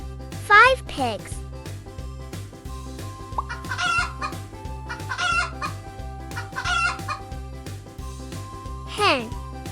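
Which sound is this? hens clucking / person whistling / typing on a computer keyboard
hens clucking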